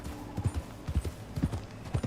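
Mustang hooves clip-clop at a brisk, steady gait in Red Dead Redemption, a run of soft rhythmic thuds at moderate distance, with no talk over them.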